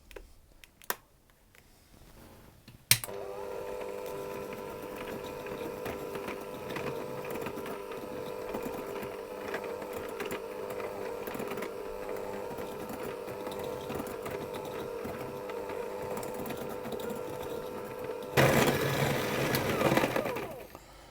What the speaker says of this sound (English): I'm going to mix those together with my hand mixer